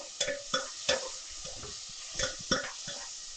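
Tomatoes cooking in a pan for spinach sambar, heard as a series of clattering stirs and scrapes over a soft sizzle, with about six distinct strokes spaced unevenly and fairly close.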